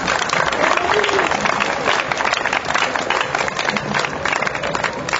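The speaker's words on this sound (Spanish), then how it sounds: "primero les brindemos un fuerte aplauso." An audience claps at a cultural festival for the national holidays in Huitzuco, a fairly loud, continuous crowd clapping with some crowd murmur mixed in, lasting around five seconds.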